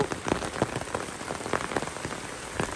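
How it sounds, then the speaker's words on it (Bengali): Heavy rain pours down outdoors beside a home garden, a dense steady patter with sharper drops hitting a nearby surface in an irregular rhythm, with no voices. "বেশ বৃষ্টি হচ্ছে, মুষলধারে বৃষ্টি হচ্ছে"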